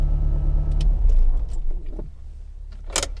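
A car engine is switched off at close range: a low running rumble fades out within the first second or so, followed by a few small clicks and a sharp final clunk.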